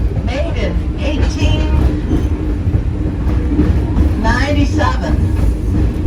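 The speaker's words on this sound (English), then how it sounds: "number 7 Baldwin locomotive" Ride aboard Baldwin No. 7, an 1897 steam locomotive of about 70 tons, with a steady loud rumble and rattle of the cars rolling along and a voice talking over the running noise throughout.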